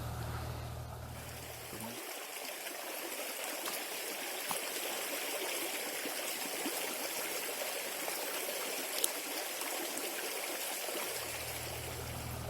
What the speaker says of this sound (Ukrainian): І ось вода там теж так шумить.